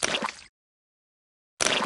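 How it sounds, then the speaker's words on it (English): Splashing in a muddy puddle in a Peppa Pig video game: one wet splat fades out, then after about a second of silence another splash begins, bright and close. "Look at all that splashing!"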